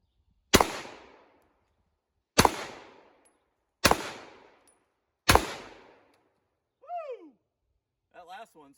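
A Smith & Wesson Carry Comp ported handgun fires four loud, sharp shots at targets, spaced over a second apart, each followed by a short decaying echo, then two brief softer ringing tones from struck steel targets.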